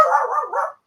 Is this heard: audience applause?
no